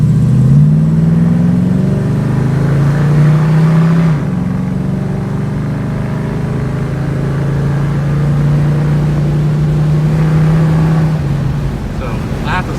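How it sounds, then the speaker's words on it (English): A 1968 Ford Mustang pulls away on a residential street. Its loud, low engine note rises, then settles into a sustained rumble that climbs and drops again. "I'll be sure to accelerate it and stay quiet while I'm doing that once I make this turn."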